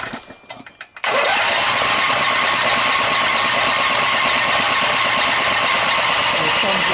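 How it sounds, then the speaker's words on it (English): Briggs & Stratton 18hp opposed-twin engine with dual carburetors and dual exhaust, cranked with no fuel yet in the lines, with a short burst of starter cranking before a loud, steady, continuous engine roar takes over and holds to the end. "So it's going to take a little bit to get it cranked up."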